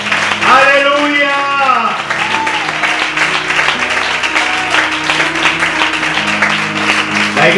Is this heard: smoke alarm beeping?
no